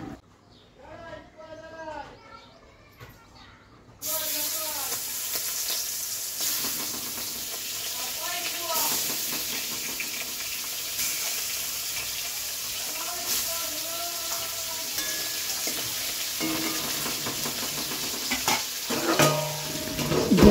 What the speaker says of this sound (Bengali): তাহলে চটপট করে মাছটা আগে ভেজে নিই।